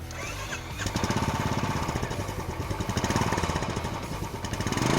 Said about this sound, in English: It's the classic sound of a Royal Enfield.